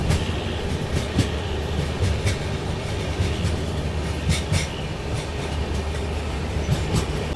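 A passenger train on the Jaipur–Mumbai nonstop run rolls over rails at night on a sharp curve near Ajmer, with a continuous heavy rumble, scattered clicks from wheels on rail joints and faint squeals, close and loud.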